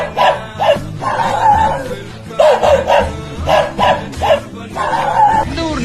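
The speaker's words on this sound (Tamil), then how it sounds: "நாய்மானி நீ ஏன் குலைக்கிற?" A dog barks and yips loudly up close in repeated short bursts, with whimpering tones between, mixed with a voice that speaks at the same time.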